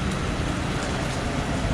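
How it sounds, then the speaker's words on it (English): Rain falls steadily on a Macau street on a Saturday, a dense continuous hiss with no breaks and no voices. "So we got kind of a rainy Saturday"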